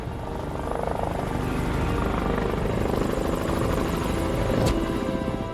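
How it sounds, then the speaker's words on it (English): Loud, continuous helicopter rotor thrum close overhead, steady throughout with no voices. "I heard the helicopters come back. It was so loud, I knew they were so close."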